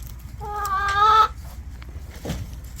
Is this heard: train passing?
no